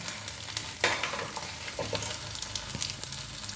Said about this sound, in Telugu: ఇప్పుడు ఇది జీలకర్ర వేద్దాం